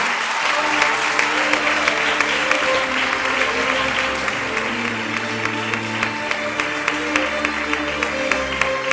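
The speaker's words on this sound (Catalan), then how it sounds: "i un fort aplaudiment, Candela Velasco García." Loud, sustained applause from a concert audience fills the whole stretch, steady clapping with a few sharper claps standing out near the front.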